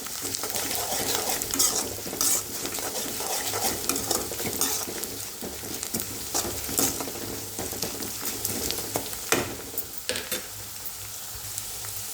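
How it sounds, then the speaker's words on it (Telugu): Onions and garlic fry in a pan for tamarind rice, a steady close sizzle broken by frequent scraping and clinking as a utensil stirs against the pan, with no voices. "ఉల్లిపాయలు అయితే కాస్త మగ్గింది ఇప్పుడు వెల్లుల్లి యాడ్ చేస్తున్నాను"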